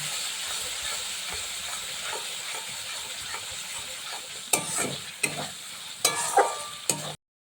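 Poppy seed paste being stirred into sizzling masala in a pan for a prawn and elephant foot yam curry, a steady frying hiss with louder scraping stir strokes near the end.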